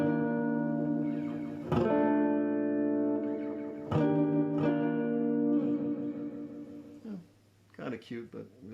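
A Space Echo delay effect on a Mackie Mix12 FX compact mixer repeats sustained, harmonic tones with trailing echoes, swelling and decaying in bursts over several seconds.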